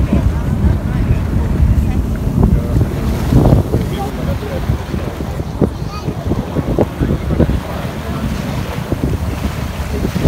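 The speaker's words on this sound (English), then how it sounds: "This is just a simple boat ride." A tour boat ride on the River Douro in Porto: steady engine rumble and water wash mixed with strong wind buffeting the microphone, loud and continuous throughout.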